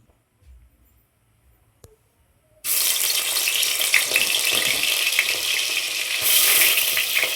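Mutton fat dropped into hot oil in a home kitchen, a quiet pause and then a sudden loud burst of frying, crackling and spluttering close by that keeps up steadily and swells near the end.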